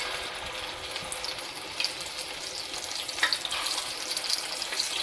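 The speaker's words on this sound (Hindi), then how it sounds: "अब हम मीडियम फ्लेम में इसको फ्राई करेंगे।" Potato snacks frying in hot oil on a medium flame, a steady, moderately quiet bubbling sizzle with small pops and crackles throughout, no voices.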